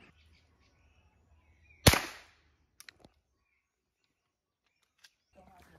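A single sharp gunshot from a .22 rifle aimed at a .22 casing cracks out with a brief decaying tail, followed by a few small clicks and faint outdoor ambience.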